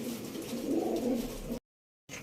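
Pigeons kept in coops cooing softly at close range, a low murmuring coo that runs for about a second and a half before the sound cuts out.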